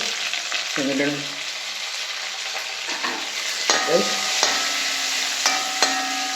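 Masala and green chillies are stirred in a frying pan, a steady sizzle with scraping strokes of the spoon and a few sharp clinks, while a voice talks briefly.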